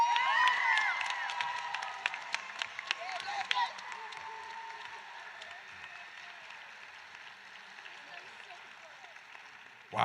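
An audience at a Levine Middle College ceremony applauds its student speakers with dense, lively clapping mixed with cheers and whoops that gradually thins and fades over several seconds.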